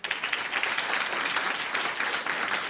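A packed room at a Gaston County Schools board meeting breaks into loud, sustained applause and cheering, a dense wash of clapping from a large crowd throughout.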